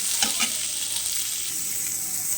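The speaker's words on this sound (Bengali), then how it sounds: "পেঁয়াজটা দিয়েছি, এখন ভাজা ভাজা হবে।" Sliced onions fry in a pan, making a loud, continuous sizzle close by, with a couple of scraping stirs near the start and no talking.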